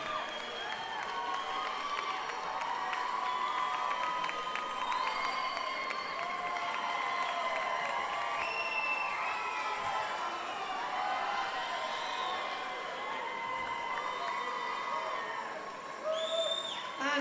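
Audience at the 2013 AIMS Awards applauding and cheering runners-up, a dense, steady wash of clapping with scattered whoops and shouts that holds for the whole stretch before thinning slightly at the end.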